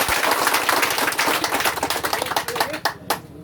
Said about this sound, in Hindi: कम से कम आप लोग एक बार अपने लिए जोरदार ताली बजा लीजिए